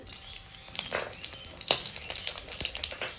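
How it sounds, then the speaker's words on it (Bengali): Steady sizzling of bay leaves, dried red chilies and cumin in hot oil, with a few sharper crackles and pops rising over the continuous frying hiss. "তেল গরম হয়ে গেছে তেজপাতা শুকনো লঙ্কা আর জিরে"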